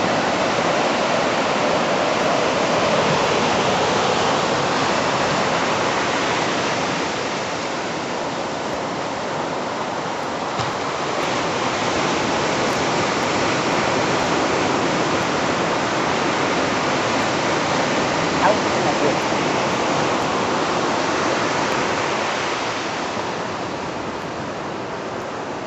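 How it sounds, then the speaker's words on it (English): Continuous broad roar of ocean waves washing onto the shore during a coastal hike, loud and close, rising and falling gently in slow surges with no voices. "sound of waves."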